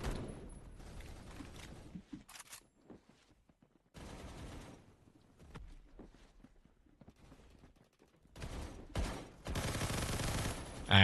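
An M60 machine gun in the game Phantom Forces fires long sustained bursts in several bouts separated by short pauses, loud and close, with no talk.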